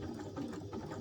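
Sewing machine stitching across a satchel bag, a steady continuous mechanical whir with an even low hum, close and alone.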